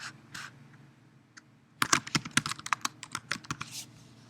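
Keys clatter on a computer keyboard nearby: a few isolated taps, then a quick burst of steady typing that lasts a couple of seconds before slowing to scattered strokes.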